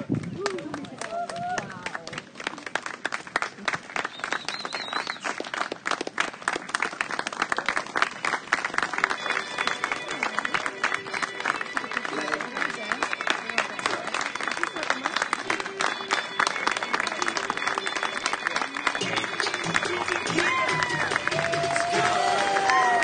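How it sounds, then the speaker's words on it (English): Sustained applause and clapping from a crowd honouring 2020 high school graduates at a graduation ceremony, dense and steady for the whole stretch with scattered cheers and voices mixed in. "come back to their processional position at the front of the stage for one final round of applause"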